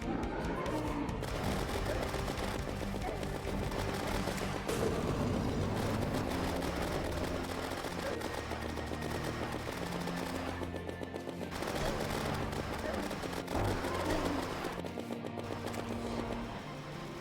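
Terraria game audio of rapid, continuous gunfire with flaming bullets during a boss fight against the Eater of Worlds, a dense steady barrage layered over game music and effects.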